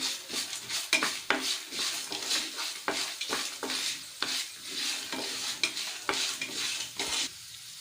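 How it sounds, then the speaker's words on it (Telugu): Half a tablespoon of cumin seeds fry in a pan while a spoon scrapes through them in regular strokes, each pass lifting a crackly sizzle above a softer hiss, with light metal clinks and no speech. "ఇందులో 1/2 టేబుల్ స్పూన్ జీలకర్ర వేసుకోవాలి. వీటిని కూడా బాగా వేయించుకోవాలి."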